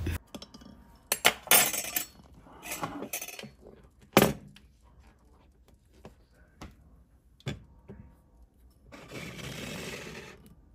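A boiled egg lifted from a metal pot with a spoon, giving a series of sharp clinks and knocks of metal and shell against the pot, irregularly spaced, followed by a softer rush of running water near the end.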